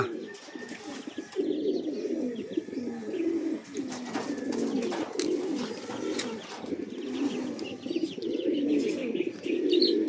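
Pigeons or doves arriving at a loft in Nueva Ecija coo steadily and overlap, with soft chirps and brief wing flaps, at moderate distance and without talk.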